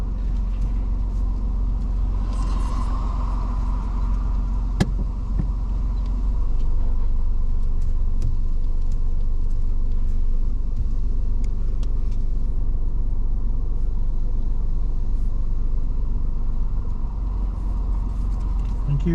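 Low, steady engine rumble from a car during a manoeuvre on a driving mock test in Swindon, continuous and close inside the cabin, with one brief click and no clear talk.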